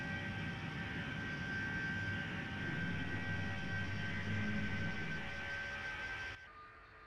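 Boeing 757-300 jet engines roar steadily and loudly through a takeoff climb, a broad continuous rush with a high whine, cutting off sharply near the end.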